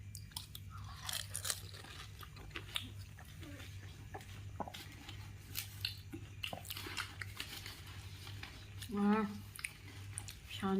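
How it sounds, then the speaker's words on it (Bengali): Crunchy phuchka being eaten with sour tamarind water at an evening snack, giving close, scattered crunching and chewing bites with a wet squish near the end, over a steady low hum. "এবার হচ্ছে টক জলটা দিয়ে খাবো।"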